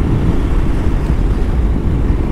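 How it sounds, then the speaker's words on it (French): A KTM 1290 motorcycle on a road test, heard as a loud, steady roar of engine and wind rush from the rider's position with no pauses. "on se retrouve sur l'essai routier au guidon de cette KTM 1290"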